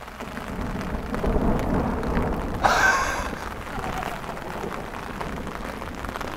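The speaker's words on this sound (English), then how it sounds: "then I'm playing through the f***ing hail by the end" Rain and hail beat down steadily on an open Scottish golf course, a dense loud wash of noise with a brief sharper burst of heavier hail partway through.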